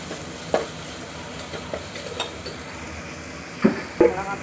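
Vada fries in a pan with turmeric and garam masala, a steady soft sizzle broken by a few spatula scrapes and taps on the pan, near and moderately loud, without speech.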